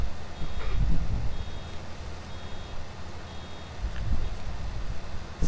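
A skid steer in Farming Simulator 19 reverses, giving a regular series of high electronic backup beeps over a low rumbling engine and wind-like background noise.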